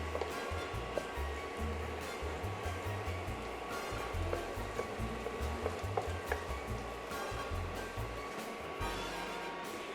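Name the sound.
scooping buttery fried onions out of a pan with a spoon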